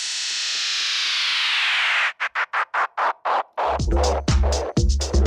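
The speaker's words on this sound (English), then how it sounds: "when it starts to feed back quite a lot, you can change this and hear the echo tail speed up." On a Pioneer XDJ-RX, a feeding-back echo effect swells into a long smeared wash, then its tail chops into rapid stuttering repeats that speed up and tighten, ending in loud distorted bursts.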